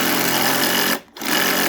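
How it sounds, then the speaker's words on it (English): Bosch cordless drill driving screws into wall fixings, a loud buzzing whir that runs for about a second, cuts off briefly, then restarts for a second burst. "we're just going to use our drill to screw these in"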